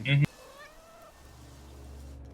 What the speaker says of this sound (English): got a bunch of cats over here